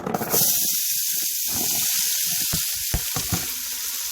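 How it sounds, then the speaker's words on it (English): Onions, carrots, celery and leeks hitting a pan of hot oxtail grease and frying, a loud hiss at first that settles into steady sizzling broken by crackles and spatters. "Let's take all of our vegetables, our onions, carrots, celery, and leeks that I talked about earlier, and let's dump them in this pan."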